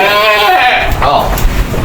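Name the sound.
dairy goat bleating during birth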